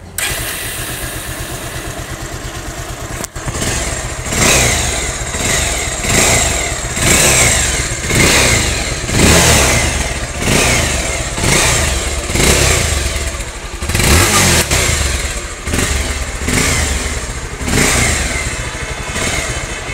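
A 220 motorcycle engine starts and then revs in a steady series of loud, close throttle blips, rising and falling about once a second.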